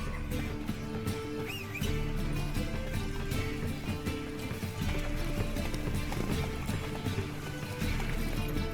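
Horse hooves clip-clop at a steady trotting rhythm in the Witcher 3 video game, a continuous run of close, crisp hoofbeats over faint ambient game sound, with a brief whinny-like tone early on.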